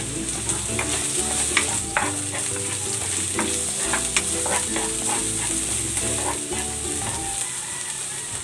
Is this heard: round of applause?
no